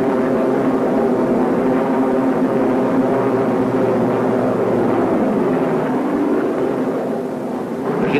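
Transport planes of an Anglo-American airborne division drone steadily overhead, a continuous loud engine hum that holds for the whole stretch with no talking.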